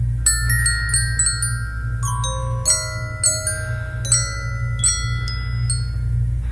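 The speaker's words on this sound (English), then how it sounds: "I just learned to play the glockenspiel." Glockenspiel tune from the Jackbox Party Pack 3 video game, bright metallic notes struck one after another in an uneven melody over a steady low hum, ringing alone without talk.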